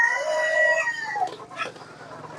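Egyptian Fayoumi laying hens, newly started on eggs, cluck and call on a poultry farm, one loud drawn-out crow-like call up close followed by scattered softer clucks.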